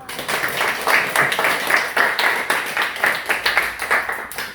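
A small church group claps together at a table, rhythmic bursts of close, fairly loud clapping repeating in a steady beat for several seconds.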